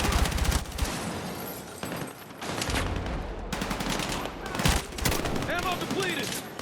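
Video game gunfire in Battlefield 6, with rapid automatic bursts and sharp repeated shots layered over a busy battlefield din, loud and continuous, no speech audible.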